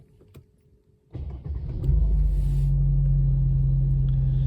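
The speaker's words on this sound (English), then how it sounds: "I'm gonna start the engine." A Mercedes engine cranks with a short starter whir, catches and settles into a steady, loud, close idle rumble.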